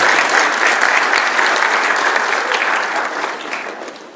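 Loud, dense audience applause at a public event honoring local officials, sustained and close for several seconds before gradually tapering off slightly toward the end.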